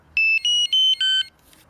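Electronic carp fishing bite alarm, the slider set to the W position, giving four quick loud tonal beeps in a close, clean run, the last one lower in pitch.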